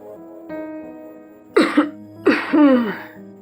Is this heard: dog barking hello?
no